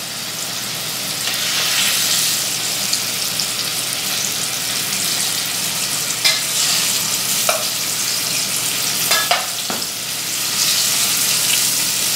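Green beans frying in hot grease in a pan, a steady loud sizzle and crackle with a few sharp pops and spatters as they are turned, continuous and close.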